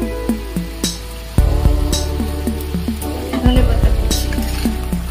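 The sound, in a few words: fish curry gravy starting to boil in a pot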